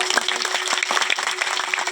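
Audience applause at a Hindi devotional discourse about Ravidas, a steady dense patter of many hands clapping throughout, moderately loud with no voices over it.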